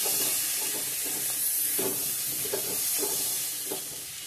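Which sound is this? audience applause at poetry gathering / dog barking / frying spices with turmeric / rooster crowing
frying spices with turmeric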